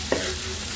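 Young ivy gourd (dondakaya) fry being stirred in a pan, one quick scrape of the ladle followed by a soft, steady sizzle, close and fairly quiet.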